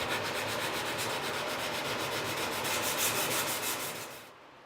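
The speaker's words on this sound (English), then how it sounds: "Did I tell you there was hand sanding involved in this project?" Hand sanding of a wooden bar stool frame: steady, close scraping strokes that rasp continuously for several seconds, then trail off near the end.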